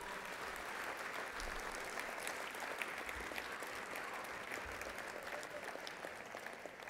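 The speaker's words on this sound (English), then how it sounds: "Let's give them a round of applause." Audience at a college hall of champions sports banquet applauds with steady, sustained clapping from many hands, even and moderately distant throughout.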